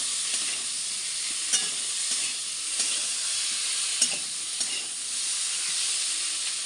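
Boiled potatoes frying in a pan with softened tomato give a steady sizzle and hiss, broken by several sharp spatula scrapes and stirs, close and moderately loud with no talk.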